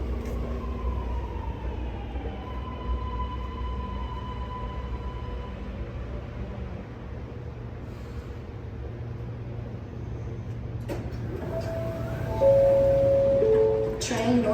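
Sydney Metro train pulling into a platform at Waterloo underground station, a steady low rumble and hum with a rising electric whine, growing louder toward the end as it arrives close by.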